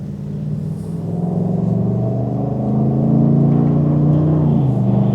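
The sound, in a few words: pickup truck driving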